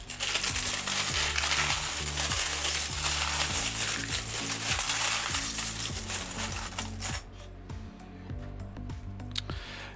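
Pre-decimal British coins clink and jingle repeatedly as they are sorted by hand in a tub, dense overlapping metallic clatter up close, with no talk.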